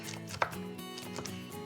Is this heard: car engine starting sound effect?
no